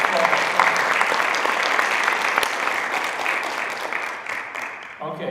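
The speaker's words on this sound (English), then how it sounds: "how about another huge round of applause?" An audience gives a sustained round of applause at a spring shorts event, a dense, steady wash of clapping that slowly fades toward the end.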